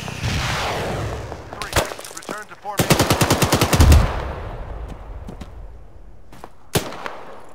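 Bursts of automatic gunfire aimed at vehicles in the military shooter ArmA 3, with a long rapid rattling volley in the middle and scattered single shots before and after, loud and close over faint background chatter.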